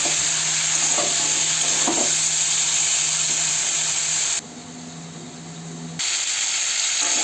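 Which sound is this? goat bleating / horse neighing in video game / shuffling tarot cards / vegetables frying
vegetables frying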